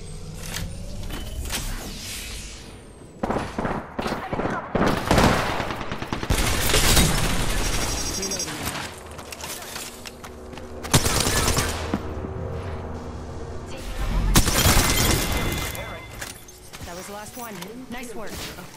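Gunfire in the video game Apex Legends: loud bursts of automatic fire and single shots arrive in repeated volleys. Booms and game sound effects sit among the shots, with a voice speaking over the action.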